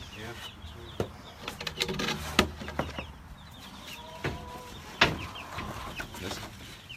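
Leghorn chickens cluck and squawk in sharp, irregular bursts as they are caught by hand, close and fairly loud over a scuffling background, with some human voices mixed in.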